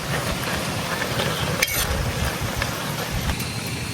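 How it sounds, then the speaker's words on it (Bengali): A spoon mashes cooked taro stems in a pan, making a continuous soft scraping and stirring close up over a faint sizzle, without any talk. "এই যে কচুর ডাটা গুলারে আমি চামচ দিয়ে এরকম ঘাইতে ঘাইতে যে নরম করে নিতেছি"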